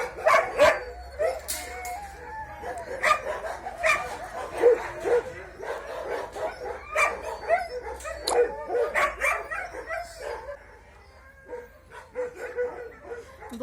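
Several dogs bark, yip and whimper at a shelter enclosure, with rapid, overlapping barks close by that keep going throughout, with no talk over them.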